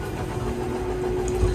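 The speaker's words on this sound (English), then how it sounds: "That gear noise you just heard" A steady low mechanical drone with a faint whine from the slide-out gear motor of a 2022 Heartland Prowler 300BH travel trailer, continuous and fairly close with no talking.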